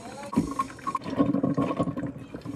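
Watery gurgling and trickling from a coffee maker dripping freshly brewed coffee, a continuous close bubbling flow with small spluttering drips, heard alone without talk.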